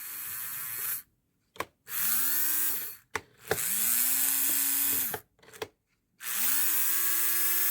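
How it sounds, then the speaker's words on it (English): HO scale model locomotive motor, a Gilbert NYC Hudson, under test after oiling: a high electric whine run in three bursts, each spinning up with a rising pitch and cutting off, separated by short silences and small clicks, close and fairly loud. "we could now test the motor properly for once"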